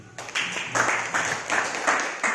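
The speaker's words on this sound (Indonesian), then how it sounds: "tepuk tangan yang terakhir" Teachers clap together at a school training session in several rhythmic bursts, a patterned group clap repeated about five times in quick succession.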